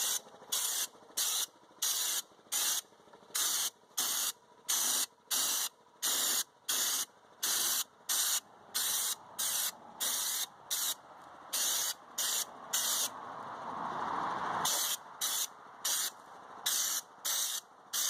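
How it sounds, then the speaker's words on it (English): Spray gun applying Raptor truck bed liner at 60 psi, with loud repeated bursts of hissing spray in a steady on-off rhythm, each lasting about half a second, close by. "I do believe we are ready to spray."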